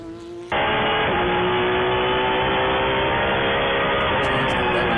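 After a brief quieter moment, a FARA prototype NG race car bursts in with a loud, sustained engine roar that climbs in pitch and stays close and dominant as it drives along the track.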